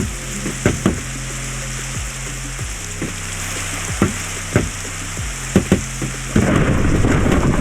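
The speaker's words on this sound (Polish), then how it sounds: "Jeszcze burza." Stormy weather in a Minecraft-style survival game, with a steady hiss of rain and repeated sharp thunder cracks and rumbles spread through the clip, ending in a louder burst of downpour.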